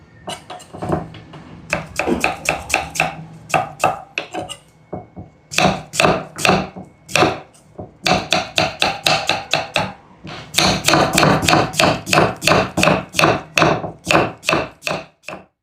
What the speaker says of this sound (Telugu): ఇప్పుడు ఇలాగ అడ్డంగా పెట్టి కట్ చేసుకోవాలి